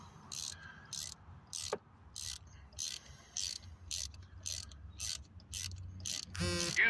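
A hand ratchet clicks in a steady run of about a dozen evenly spaced ticks while tightening a spark plug into the cylinder head of a 2015 Chevrolet Malibu, close and clear over a low hum, ending in a faster burst of clicks.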